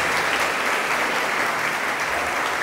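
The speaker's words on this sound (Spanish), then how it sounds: "un aplauso para la hermana" A church congregation breaks into brief, dense applause for a woman during a Catholic gathering, steady close clapping throughout the short burst.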